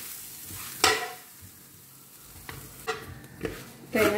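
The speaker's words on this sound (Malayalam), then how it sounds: "ഇത് മീഡിയം ഫ്ലെയിമിൽ വറുത്തെടുക്കാം" Coconut mixture for curry leaf chutney dry-roasting in a pan over a medium flame, with a few sharp spatula scrapes and stirs over a faint, low sizzle; no one talks.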